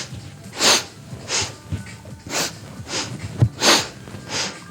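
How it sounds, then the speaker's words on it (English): Sharp nasal sniffing breaths from a yoga breathing exercise, about seven bursts in a steady in-and-out rhythm, close and fairly loud with no talk over them. "that sniff in, sniff out that triggers other beautiful functions within the body"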